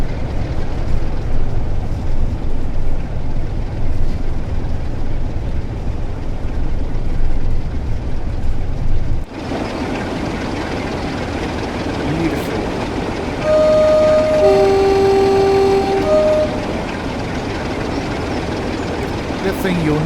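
A Pacer diesel train rolls past in a Train Sim World 4 route near Blackpool, a loud rumbling pass with a short two-tone horn, while someone talks over it.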